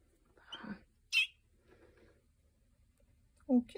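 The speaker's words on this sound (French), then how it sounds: "Aucune idée c'est quoi ces oiseaux-là." Baby birds give a couple of short, high chirps close by, with voices talking around them.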